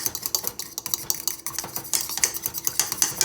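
A utensil clinks and scrapes briskly around a bowl, mixing ketchup, hot sauce and honey in quick, close, rhythmic strokes with no talking.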